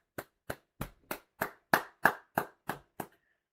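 Ten sharp hand claps ring out one after another at a steady, slightly quickening pace, fairly close and loud, each a crisp isolated smack with brief silence between.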